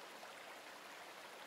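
A mountain stream fed by a spring in the wild Friulian Alps flows in a faint, even, continuous rush with no breaks or voices.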